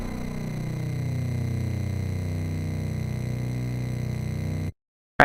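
A synthesized FM bass built on a sine wave drones loud and steady for nearly five seconds, its pitch slowly rising with a shimmering, sweeping tone, then stops abruptly before a brief click.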